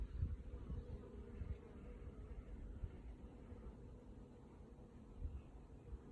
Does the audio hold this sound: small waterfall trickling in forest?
no